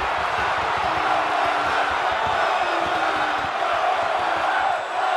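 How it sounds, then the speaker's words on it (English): Loud crowd roar in the wrestling video game Def Jam 2K22, a dense continuous wall of cheering and shouting that holds steady for the whole stretch without a break. "The sound of this crowd is deafening."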